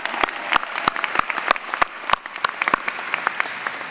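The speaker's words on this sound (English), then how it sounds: "You can applaud for that." Audience at a 2014 Rutgers-Camden commencement and honors convocation breaking into applause, scattered sharp claps rising to a steady indoor ovation, moderately loud and without talk.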